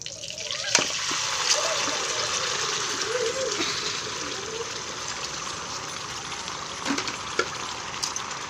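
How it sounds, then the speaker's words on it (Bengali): Meat chaap eased slowly into hot frying oil, giving a steady bubbling sizzle with faint liquid trickling and occasional sharp crackles, close and continuous. "এবারে আমি দিয়ে দেবো ওই চাপটা, তেলের মধ্যে আস্তে করে ঢেলে দিই"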